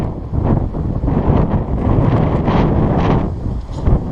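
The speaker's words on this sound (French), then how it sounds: "Par contre le vent il souffle hein." Strong wind buffets the microphone outdoors among the landscapes and waterfalls near Sorède, a continuous loud rumbling roar with gusting swells and no voices.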